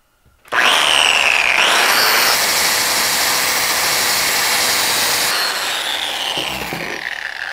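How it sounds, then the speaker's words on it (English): A wire wheel on a power tool grinds against wood, scorching it, in one loud, continuous whining scrape that starts abruptly and holds steady for about seven seconds, close by. "This wire wheel is not cutting it. It's burning the wood."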